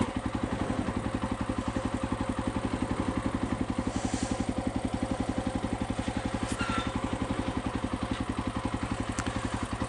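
A KTM 530 EXC-R enduro motorcycle idles close by with a rapid, even thumping single-cylinder beat, loud and steady throughout with a few faint clicks and no talking.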